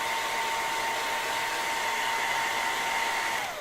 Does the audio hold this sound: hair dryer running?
yes